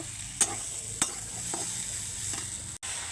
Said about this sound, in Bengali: এবার এর মধ্যে একটুখানি জল দিয়ে ভালো করে সেদ্ধ করে নেব